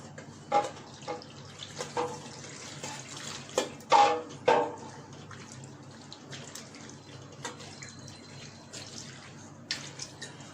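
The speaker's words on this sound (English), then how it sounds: "Now I wash it with fresh water or cold water" Running tap water splashes intermittently as blueberries are rinsed, with irregular splashes and drips against a soft water hiss.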